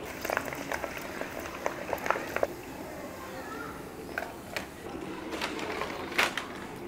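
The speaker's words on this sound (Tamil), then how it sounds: "இதை நம்ம பொரிச்சுட்டு எப்படி இருக்குன்னு பார்க்கலாம்" Papad sizzles steadily in medium-hot oil, with scattered crackles and sharp pops throughout; the sound is fairly quiet and close.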